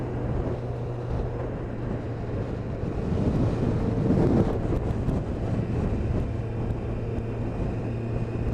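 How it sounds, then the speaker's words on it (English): Strong gusting wind buffeting the microphone while crossing the Humber Bridge northbound over a rough river, a constant low roar with a steady hum beneath and a heavier gust midway. "On a very, very windy day."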